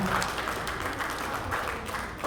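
A church congregation applauding after a song at a Sunday service: loud, dense, continuous clapping from many people close by, holding steady the whole time.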